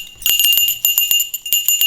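A small bell on a plastic camping keychain gadget jingles close up in a quick run of bright, tinny rings with a few brief pauses.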